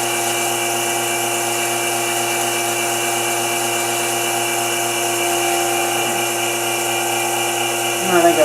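A gouge shear cuts on a wood lathe while turning a yarn bowl, riding the bevel in a light cut; the spinning lathe hums steadily at close range with an even scraping tone, and a brief knock near the end.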